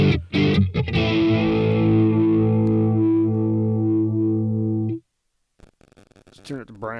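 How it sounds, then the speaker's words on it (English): A sustained, heavily distorted electric guitar chord through a Boss Katana MkII amplifier on its lead setting rings out loud for several seconds, then cuts off abruptly, followed by a few faint scratchy noises. "Sounds good with distortion."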